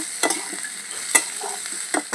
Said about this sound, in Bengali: পেঁয়াজটাকে আমি হালকা বাদামি বাদামি করে ভেজে নেব